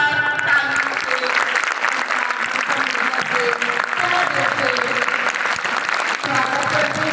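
Loud, sustained applause from a school audience welcoming guests to a convent school courtyard event, a dense steady roar of clapping filling the whole stretch.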